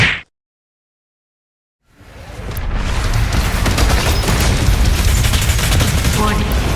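The BFG 10,000 firing in the Doom Eternal video game: a sharp cue cuts to brief silence, then a massive roaring blast swells up and holds as a loud, sustained rumbling barrage.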